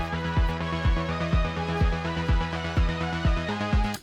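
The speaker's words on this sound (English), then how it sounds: "the fireworks takes a while to get up" Steady electronic music with a punchy kick thumping about twice a second drives a fireworks show in a park-building video game, the beat and sustained synth tones filling the whole stretch with no distinct bursts standing out.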